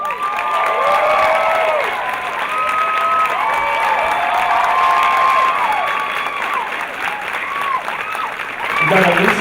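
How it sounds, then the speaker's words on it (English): A convention audience at a New York Comic Con panel applauds and cheers for the cast, loud sustained clapping with whoops and shouts throughout, fading slightly before a voice cuts in at the end. "So let's give them a big round of applause"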